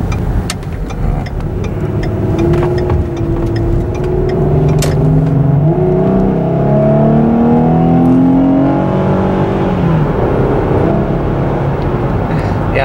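A car engine revs steadily and loudly, its throaty pitch climbing and falling in smooth sweeps over several seconds, close by and alone with no talking.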